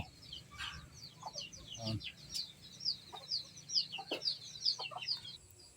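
Chickens cluck around a hen with her chicks, with busy high cheeping peeps and a few low clucks close by, mixed with faint background noise and soft scuffs.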